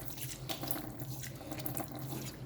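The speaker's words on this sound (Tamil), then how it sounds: "இப்போ இந்த லீவ்ஸ்லாம் நாம் வாஷ் பண்ணிடலாம்" Water runs and splashes steadily over money plant (pothos) leaves being washed, a soft close trickle with small drips and no voices.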